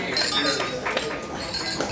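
Glasses clink during a wedding toast, with light chinks rising over a room full of murmuring guests and background chatter.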